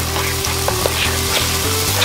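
Turkey thighs sear in a hot multi-cooker pot, giving a steady, close, fairly loud sizzle and crackle of frying that continues without a break, with no voices.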